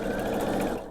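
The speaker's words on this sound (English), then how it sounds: "Sew from point to point" A sewing machine stitching bias binding strips together for a quilt, a steady close mechanical whir with rapid needle chatter running the whole time.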